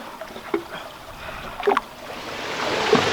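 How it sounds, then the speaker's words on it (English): Water of a small river running over flat rocks toward a waterfall in a gorge, a soft steady rush that swells louder toward the end, with a few brief splashy bursts along the way. "A lovely little river running over flat rocks over to the waterfall"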